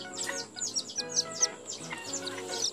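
A young chick chirps from a nest, giving a quick run of high, thin peeps that come close and clear with brief pauses between bursts.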